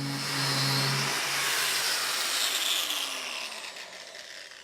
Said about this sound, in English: So to trim the disc, use any 90-degree sharp edge, such as this piece of metal here.